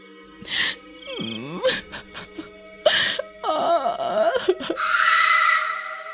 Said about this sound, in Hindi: हमेशा की तरह शाम होने के बाद उस औरत के रोने की आवाजें आने लगती हैं।